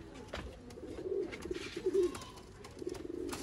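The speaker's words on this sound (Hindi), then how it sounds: "ये सियालकोटी कबूतर है बैलेंस में" Sialkoti pigeons coo in soft, low, repeated phrases, fairly faint and close, with no voices over them.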